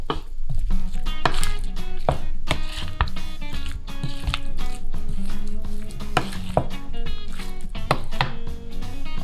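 Potato salad being stirred with homemade mayonnaise, producing wet squishy thuds and spoon knocks against a bowl in a steady, close, rapid rhythm with no talking.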